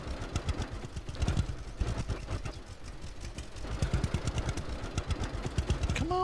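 A tractor engine in the farming video game Farmer's Dynasty chugs with a rhythmic, clattering pulse at a modest, fairly even level, with no speech over it.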